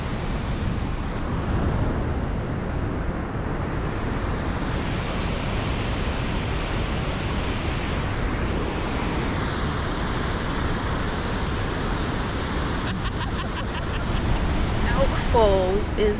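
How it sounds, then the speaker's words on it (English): Steady, dense roar of heavily rushing water from a large waterfall near Campbell River, Vancouver Island, fills the whole stretch, loud and unbroken, with a faint birdlike whistle near the end. "The sheer quantity of water just flowing through there was incredible."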